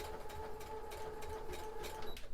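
A computerized sewing machine stitches a zigzag with a G foot, giving a steady, fast mechanical whir with a faint rhythmic ticking. It runs continuously at a moderate, fairly quiet level, with no talk over it.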